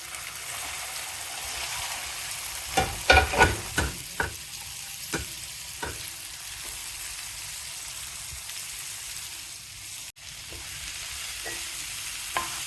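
Okra frying in hot oil with spluttering mustard seeds, a steady low sizzle broken by a cluster of sharp pops and crackles early on, then scattered fainter spits, with no talking.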